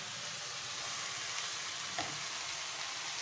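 Leafy vegetable curry with paneer is stirred in a pan, giving a quiet, steady frying hiss with a single soft utensil clink partway through.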